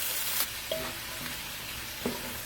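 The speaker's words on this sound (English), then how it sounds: "And we're going to add in the peppers. And we're going to saute these" Peppers sautéing in butter in a skillet over medium-high heat, a continuous close sizzle and crackle with a few faint clinks, no voices.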